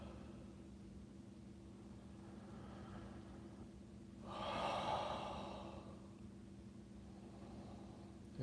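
After a run, a person lets out one loud, forceful breath or snort at close range, rising and fading over about a second amid otherwise quiet room noise.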